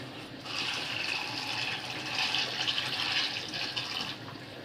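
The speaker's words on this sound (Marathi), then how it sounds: "कुरमुऱ्यामध्ये पण पाणी घालते" Water streams steadily into a bowl of puffed rice for several seconds, a soft splashing pour heard close up and fairly quiet, with no talking.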